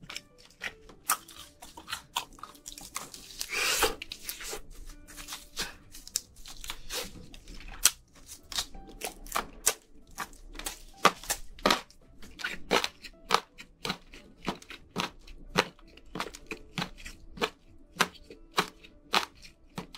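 Crunchy bites of chicken tenders fried in an air fryer at 180 degrees for 25 minutes, sharp crackling crunches repeating steadily and close, with no talk.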